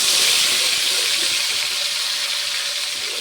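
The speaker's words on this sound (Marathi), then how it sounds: "आता आपल्याला टाकायचे हिरवं वाटण" Green ground paste dropped into hot oil in a wok for soybean keema, giving a loud, close, steady sizzling hiss that fades slightly over a few seconds.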